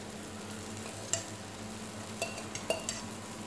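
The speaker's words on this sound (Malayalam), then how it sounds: "സൈഡിലൂടെ കുറച്ച് എണ്ണ ഒഴിച്ചു കൊടുക്കുക." An aloo paratha fries in oil on a pan with a soft, steady sizzle, broken by a few light clinks of a utensil against the pan, close and fairly quiet, with no talking.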